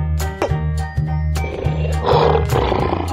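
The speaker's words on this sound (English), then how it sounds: "Lion." A big cat roars repeatedly at close range, deep rumbling bursts layered over harsh growling, loud throughout.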